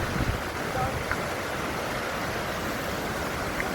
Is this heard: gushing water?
yes